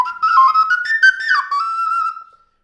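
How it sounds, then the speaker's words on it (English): An ocarina, a clay fixed whistle flute, plays a short melodic phrase of clear, pure whistling notes lasting about two seconds, close and fairly loud, then trails off into silence. "Here's another one, also an ocarina,"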